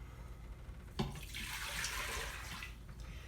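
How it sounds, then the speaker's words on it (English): Water is poured into the inner pot of an Instant Pot pressure cooker: a steady, close splashing pour starts abruptly and runs about two seconds before tapering off over low background hum. "So we're gonna put 3 cups of water in our pot."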